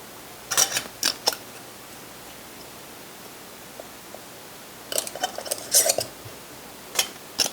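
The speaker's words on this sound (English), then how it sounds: "So put the lid on and then lightly screw on, just hand tight," A metal ring lid is screwed by hand onto a glass canning jar of candied jalapenos, giving two short clusters of scraping, clicking metal-on-glass sounds close up, with a quiet background hiss.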